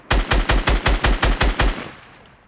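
Rapid automatic gunfire in Fortnite on console, a tight burst of about nine evenly spaced loud shots fired close up, ending with a short fading echo tail.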